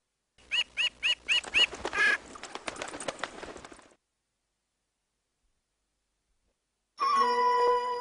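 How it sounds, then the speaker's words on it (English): A magpie gives a burst of harsh, rhythmic chattering calls, loud and close, for several seconds. Silence follows, then a different tonal sound starts near the end. "The magpie, 喜鹊, is a lucky bird in China."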